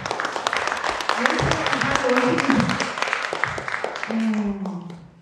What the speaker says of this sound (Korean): 좀 박수 좀 보내주시기 바랍니다.